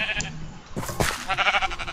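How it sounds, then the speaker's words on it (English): Minecraft sheep bleat near crops, a short faint call followed by a louder, wavering bleat that trails off in quick pulses, with no voices. "Sheep, get away from the crops before you."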